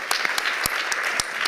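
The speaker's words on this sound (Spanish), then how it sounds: "Y les pido un aplauso muy grande para ellos." Applause from an audience at a live cultural talk event in Santiago, a brief burst of dense clapping with a few sharper claps standing out, steady and fairly loud throughout.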